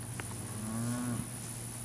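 A single steer or heifer gives one low, drawn-out moo at a cattle sale of muscled, medium- and large-frame feeder cattle. The call is short, at moderate distance, over a quiet background hum.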